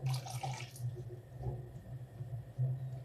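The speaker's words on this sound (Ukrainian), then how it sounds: "І заливаю водичкою. У мене гаряча вода." Hot water poured over whole young potatoes in a frying pan, a steady close watery splash and gurgle running for about three seconds.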